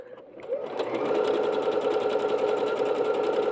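A Bernette B-77 sewing machine running a stitch pattern: the motor spins up quickly and settles into a continuous, fast, even whir with rapid needle ticking, close and loud, with no voices.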